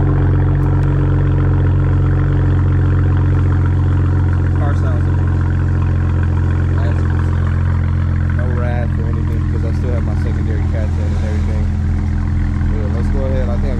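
A BMW 335i engine rumbles steadily at idle through its exhaust with 4-inch tips, a deep, continuous low drone throughout, a few faint clatters and chirps over it.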